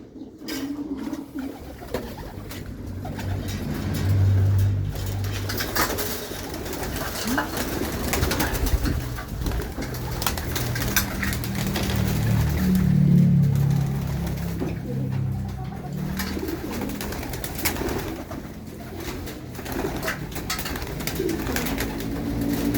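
Released pigeons coo low and repeatedly nearby, with wing flutters and light outdoor background noise throughout.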